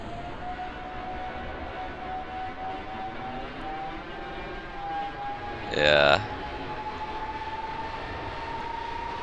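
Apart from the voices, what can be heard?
aircraft engine exhaust in Kerbal Space Program video game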